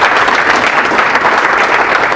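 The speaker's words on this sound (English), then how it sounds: "Let's give Wyndham a round of applause." Dense, steady applause from a conference audience fills the room for a presenter, a continuous wash of many hands clapping at even loudness with no voices standing out.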